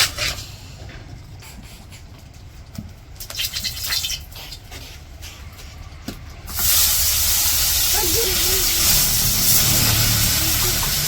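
Fish coated in turmeric, chilli and salt dropped into hot oil in a wok, bursting into a loud, steady frying hiss that starts abruptly partway through and holds after quieter handling sounds, for a village-style fish curry.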